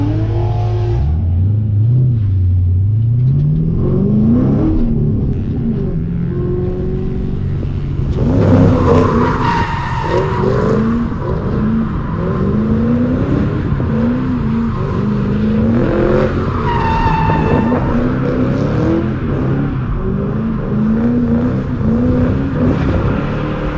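A car drifts at a drift event, its engine revving up and down loudly with rising and falling pitch while tires screech in long skids, close and continuous throughout.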